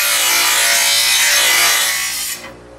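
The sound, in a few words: sharpening a lawnmower blade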